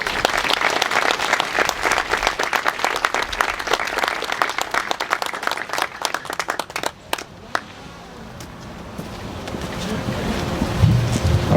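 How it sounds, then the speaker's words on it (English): Audience at a scholarship celebration claps for student award winners, a dense crowd applause that runs strong for about seven seconds, then thins out and fades to scattered claps and room noise. "Please give them a round of applause."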